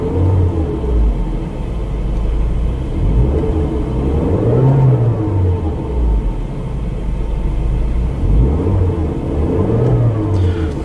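A 2010 Mercedes-Benz A180 W169 engine revved repeatedly, rising and falling in smooth, steady swells, a loud close rumble with no voices.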